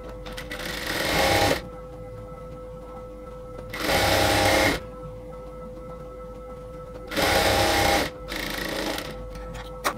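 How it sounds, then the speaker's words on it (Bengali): A sewing machine stitches the sleeves of a nighty in three loud, close bursts of rapid whirring, each a second or so long, separated by quiet pauses. "এবার গলাটা রেখে আমরা প্রথমে স্লিভসটাকে সেলাই করে নেব।"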